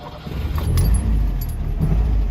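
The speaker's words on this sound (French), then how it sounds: "Alors, je vais vous démarrer avec grand plaisir." A 1964 Peugeot 403 being started: a jangle of keys over a low, steady engine rumble, close up and fairly loud, with no one speaking.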